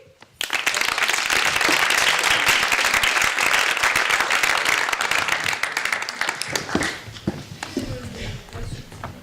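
Applause from a theatre audience at a forum theatre performance, dense and sustained clapping that starts suddenly, stays loud for several seconds, then thins out and fades toward the end.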